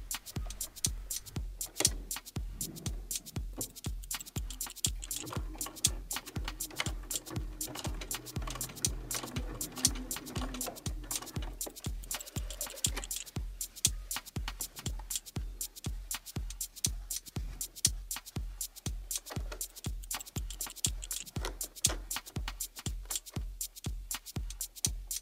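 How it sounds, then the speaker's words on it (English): A sewing machine stitches back and forth along the side seam of a pair of jeans at the hem, a steady rapid mechanical clatter of needle strokes running throughout, close and alone. "Sew back and forth on the side seam."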